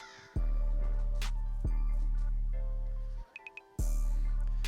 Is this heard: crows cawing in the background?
yes